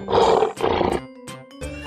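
Lion roar from an animal cartoon, with two loud, deep, drawn-out roars close together, followed by quieter tonal sounds and brief clatter, with no talk over it.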